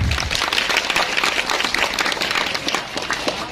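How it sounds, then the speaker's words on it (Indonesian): A crowd at a village celebration of National Santri Day and the Prophet's birthday in Sembikua, Indonesia, applauds in a dense, loud, continuous wash of clapping that lasts throughout. "Tepuk tangan lagi"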